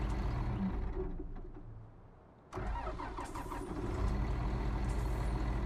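A big, powerful tractor engine in Farming Simulator 19 winds down to near silence, then abruptly cranks and fires into a deep, throaty idle that grows slightly louder, close and alone.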